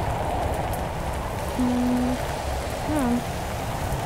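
Steady rain hisses across a video game world while surviving on an island, a continuous wash of falling drops with a brief spoken word mixed in.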